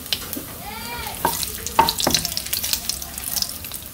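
Cumin seeds and bay leaves crackle and sizzle as they hit hot oil in a village-style kitchen, a steady close frying hiss with sharp pops and spatters rising partway through.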